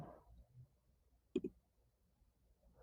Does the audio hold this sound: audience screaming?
no